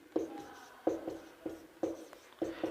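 A pen writing on paper during a maths lesson, a series of short scratchy strokes in an irregular rhythm, close and fairly quiet.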